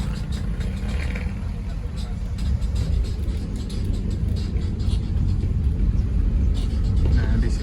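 Traffic rumbles steadily at the Pakupatan Serang bus terminal in Indonesia, with car and bus engines idling and moving nearby, a continuous low drone and occasional revving, while people talk over it.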